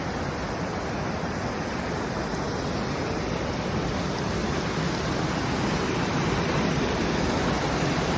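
Bassi Falls, a waterfall over granite rock in the Sierra Nevada mountains, roars as a constant, dense wash of rushing water heard close and loud throughout, with no voices.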